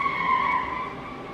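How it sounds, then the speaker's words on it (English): Car tires skid outside in a sustained squeal, a steady high screech that holds loud for over a second before easing slightly, with no talking. "About once a day I almost hear a car crash."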